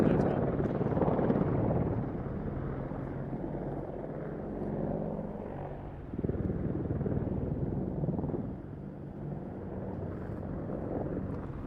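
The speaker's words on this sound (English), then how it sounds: "The Apache pair will now perform a bunt in the centre of the airfield" Pair of British Apache attack helicopters flying a bunt manoeuvre at a VE Day air show, a steady rotor drone and engine roar that swells and fades with distance and wind buffeting.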